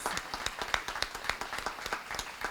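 An event audience applauds sponsors at a diversity awards gathering, dense rhythmic clapping close by with sharp individual claps standing out, steady throughout.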